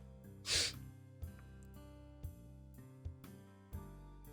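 A single loud sneeze bursts out over steady game music during a Katamari Damacy birthday livestream, followed by regular musical beats with no talking.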